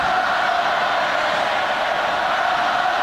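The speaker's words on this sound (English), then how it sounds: "Crowd screaming out for the final whistle to go" A packed rugby stadium crowd at a Super 12 final between the Brumbies and the Crusaders roars continuously for the final whistle, a dense, loud and unbroken wall of screaming.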